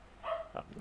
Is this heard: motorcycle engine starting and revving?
no